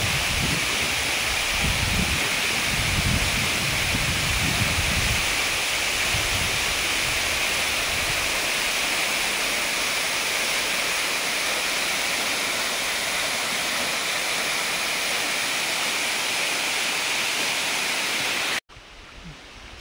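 A waterfall roars in a steady, dense rush of falling water that fills the whole scene without pause, heard alone with no talking.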